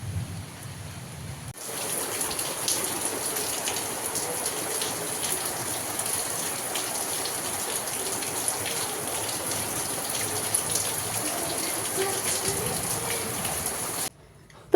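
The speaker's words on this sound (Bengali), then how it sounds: "হঠাৎ করতে দেখো বৃষ্টি শুরু হয়ে গেছে" Sudden, unseasonal rain pours down, a dense even hiss that starts abruptly and carries on for about twelve seconds before cutting off.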